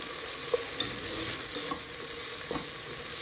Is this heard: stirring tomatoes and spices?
yes